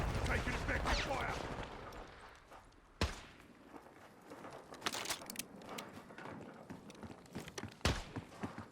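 Gunfire in the Warzone video game: scattered shots and bursts over a busy battlefield din, with two sharp, loud cracks standing out near the start and the end, plus faint voices in the mix.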